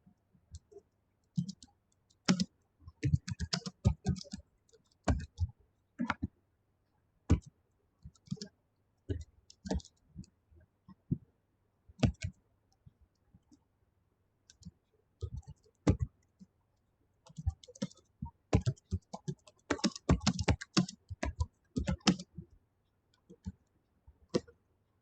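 Computer keyboard typing during an online class session, heard as irregular bursts of close, crisp key clicks with short pauses between flurries, no voices present.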